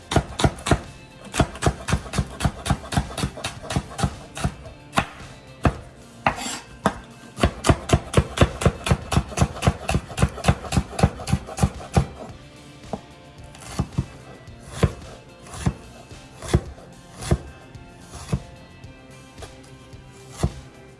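A knife chops cilantro, green chilies and ginger on a cutting board with steady rapid strikes that are close and distinct, then slows to sparser, spaced cuts in the second half, with no talking.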